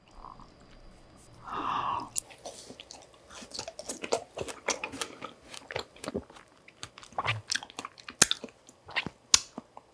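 Frozen kiwi dipped in honey is bitten and chewed very close up, an irregular series of crisp icy crunches and wet chomps following a brief soft rustle near the start, with no talking.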